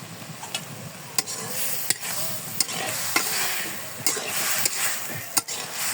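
A Bengali egg and vegetable fry getting stirred in a pan, the spatula knocking sharply against the metal every half second or so over a low, close sizzle, with no one talking.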